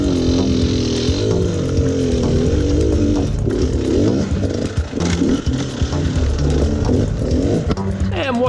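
A Suzuki DRZ400 enduro motorcycle revs hard while climbing a rutted hill track, its engine loud and close with constant fluctuating buzz as the throttle surges and falls, a voice speaking over it.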